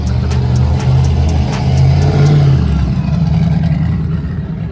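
Classic car engine with front-mounted exhaust revving hard at a car show and cruise, loud and close, with rising and falling throttle blips over a deep rumble and no speech.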